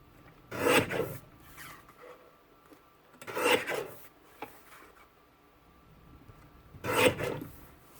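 A paper trimmer slices a pink paper panel, three short rasping cuts spaced a few seconds apart, close but fairly quiet with near silence in between.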